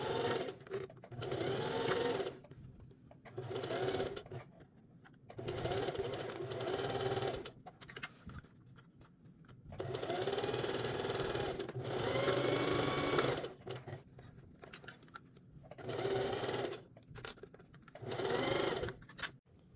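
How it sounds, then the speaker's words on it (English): A sewing machine stitches around the edge of a lined tote bag in several separate bursts of steady buzzing, with short quiet pauses in between. "Then we're going to take it over to our sewing machine and sew around the perimeter of the bag."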